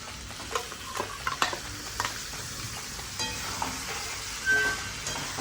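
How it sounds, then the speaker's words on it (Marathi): Ground masala sautéing with brinjal and potato in a pan, a continuous sizzle punctuated by repeated spatula scrapes and taps at an irregular rhythm. "मसाला चांगला परतून घ्यावा"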